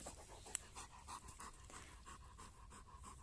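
A dog lying down in a sunny forest in the heat pants steadily and close by, quick rhythmic breaths repeating through the whole stretch, quiet and with no voices.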